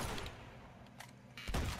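Blind-fire gunfire in Uncharted 2, a muffled stutter of shots in the background with a couple of sharper bursts near the end, fairly faint throughout.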